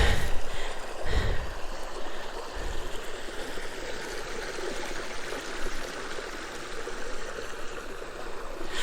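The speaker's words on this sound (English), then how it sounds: "So this is the McIver Creek," McIver Creek runs at the foothills of the ranges near Heathcote, its water rushing in a steady, broad flow close by, with a few low thumps early on and no talking.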